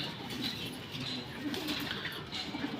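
Pigeons in a breeder's loft give soft, low coos in short repeated bursts, faint and at mid distance over a quiet background hum.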